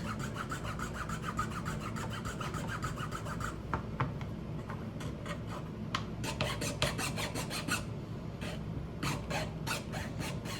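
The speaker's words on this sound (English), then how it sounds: "just removing that excess material, so it will fit back" Excess glue being filed off a wooden peg so it fits back into place, producing close, steady rasping strokes that turn into sharper, rhythmic scraping passes later on.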